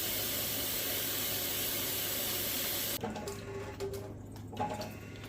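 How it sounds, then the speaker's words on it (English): Water gushes steadily from a tap into a tube for a few seconds, then cuts off, leaving faint drips and small handling noises. "the first thing that makes sense is to fill this full of water"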